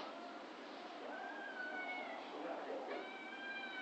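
A domestic cat meows in a few drawn-out, rising calls over a constant background hiss indoors, while a person talks quietly nearby.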